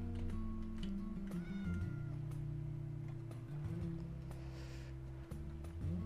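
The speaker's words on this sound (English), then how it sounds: "Can't say no to the cat." A cat in Minecraft meows a few times in short cries, partly hidden under loud, busy background music that carries on throughout.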